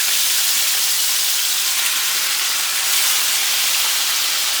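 A steak sears in a little olive oil, giving a steady, loud, unbroken hiss throughout with no other sounds.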